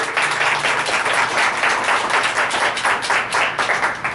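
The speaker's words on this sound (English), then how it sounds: "And again, big round of applause for Mr. Brian, LeBrun, Chaske, Stewart." Dense applause from an audience at a Native American flute performance in a Rapid City library, steady and fairly loud throughout, with a faint voice under the clapping.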